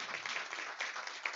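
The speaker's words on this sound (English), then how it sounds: "Let's give them a round of applause." Quiet, muffled applause rises from the audience at a school board meeting, an even patter of hands that holds through the short stretch.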